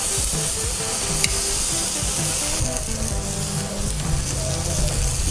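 Food sizzles and hisses steadily in a hot pan after being flipped, a dense, loud frying crackle that continues throughout with small pops and faint handling sounds.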